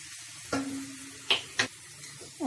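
Vegetables being stir-fried with soy sauce and tomato ketchup, heard as a few quiet spatula scrapes and knocks against the pan over a faint background sizzle, with no speech.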